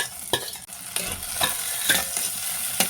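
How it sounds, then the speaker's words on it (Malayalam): Garlic and ginger sautéing in oil for a Kerala mango sardine curry, a spoon scraping and tapping the pan in a loose rhythm of about six strokes over a steady close sizzle. "വെളുത്തുള്ളി ഇതൊക്കെ കൂടി ഇട്ടിട്ട് ഒന്ന് വഴറ്റാം"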